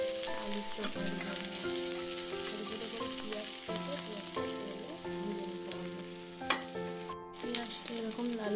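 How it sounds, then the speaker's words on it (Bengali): Onions and dried red chillies fry in hot oil in a kadai, a dense crackling sizzle with occasional stirring scrapes, with steady music playing underneath. "পেঁয়াজটা এরকম লাল লাল করে ভেজে নিতে হবে।"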